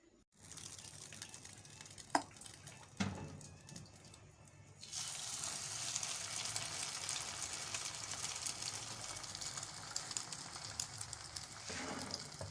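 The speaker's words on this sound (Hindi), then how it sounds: "अब इसी तरह से हम थोड़ी देर इसको फ्राई करेंगे।" A bread slice dipped in egg fries in a pan for French toast, a faint, steady sizzle that swells after a few clicks and handling knocks, then keeps hissing evenly near the pan.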